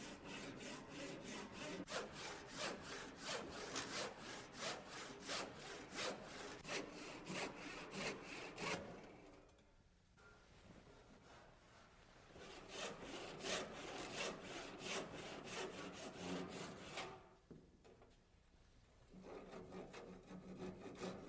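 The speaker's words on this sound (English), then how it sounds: "I'll make the cut with a sharp 12-point cross-cut saw" A sharp 12-point hand cross-cut saw works through a wooden stair stringer in fast rhythmic push-pull strokes, close and steady, pausing twice before sawing resumes.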